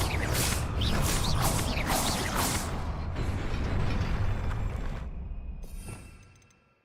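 Confringo fire spell cast in Hogwarts Legacy, a rushing burst of whooshing, crackling magical impact that holds steady for several seconds before trailing off into a faint fading tail.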